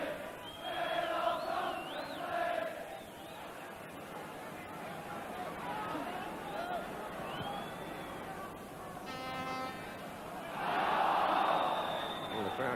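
A large football stadium crowd at a Liverpool v Benfica European Cup quarter-final roars and bays in a sustained appeal for handball, a dense wall of voices that swells again near the end.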